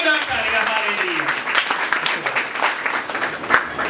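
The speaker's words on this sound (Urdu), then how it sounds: "آئے ایسے خدا کے لیے زوردار تالیاں بجائیں، زوردار تالیاں" A church congregation bursts into loud, sustained applause, dense clapping filling the room, while a voice keeps talking over it.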